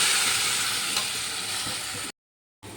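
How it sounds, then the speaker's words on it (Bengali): Boiled mung dal goes into a pan of frying masala, producing a loud, dense sizzling hiss that settles to a steady, slightly lower level before cutting off briefly and resuming, with no talking. "এবার আমি যে মুগ ডালটা সেদ্ধ করে রেখেছিলাম মধ্যে দিয়ে দিলাম"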